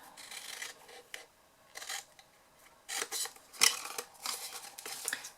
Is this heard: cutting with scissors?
yes